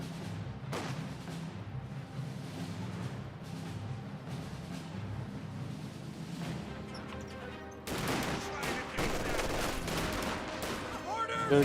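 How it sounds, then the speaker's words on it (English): Dense rattling gunfire and explosions from a Company of Heroes 2 battle, with a sniper rifle shot somewhere in the mix, continuous combat noise that grows louder and busier midway. "Good sniper shot there."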